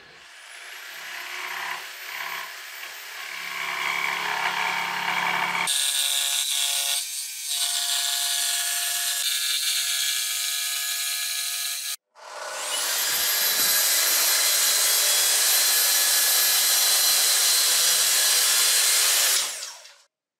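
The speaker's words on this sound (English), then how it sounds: "And then all I do is I cut that with the jigsaw." A jigsaw cuts a kitchen worktop from the top with a clean-cut blade, giving a loud, sustained buzzing rasp that stops briefly, changes pitch, then resumes at full strength for several more seconds. No one speaks.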